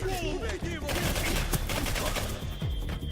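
Rapid gunfire rattles in the Xbox 360 shooter Singularity, quick overlapping shots and bursts packed tightly over a few seconds at moderate volume with some echoing impacts.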